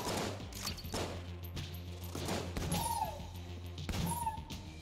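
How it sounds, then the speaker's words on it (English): Shotgun blasts in the video game Enter the Gungeon, heavy booming shots repeating every second or so over a dense game soundtrack, loud and continuous. "That's a shotgun."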